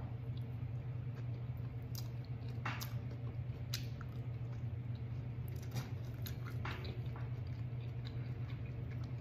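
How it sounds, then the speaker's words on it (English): Edamame with sea salt being chewed close up, with soft wet squishes and a few sharper bites over a quiet, humming room. "Let's try some of this edamame."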